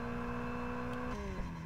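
Car engine in the Test Drive Unlimited racing game heard with the window open, a steady droning hum whose pitch drops partway through as the car shifts, moderately loud and continuous without talk.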